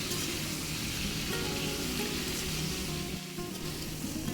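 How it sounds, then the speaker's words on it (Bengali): Potato and cauliflower pieces frying in oil on a high flame make a dense, even hiss of spattering oil, close and unbroken, with faint stirring underneath. "তেলের সাথে হাই ফ্লেমে ভাজতে হবে"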